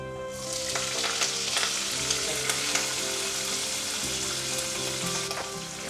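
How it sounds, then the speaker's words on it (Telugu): Chilli and curry leaves fry in hot oil with a dense, even crackling sizzle, close and steady for several seconds, with occasional light stirring taps and no voices. "చిల్లీ అండ్ కర్రీ లీవ్స్ వేస్తున్నాను, కరివేపాకు"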